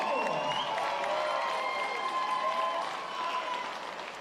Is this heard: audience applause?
yes